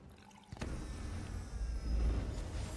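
Water pours and drips in the Elder Scrolls Online video game, a sudden splash onset followed by a steady trickling fill that swells toward the end, with no voices.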